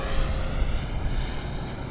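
An E-Flite Viper 70mm electric ducted-fan model jet pulled hard into an accelerated stall, giving a steady, loud whooshing roar that holds level throughout with no voices.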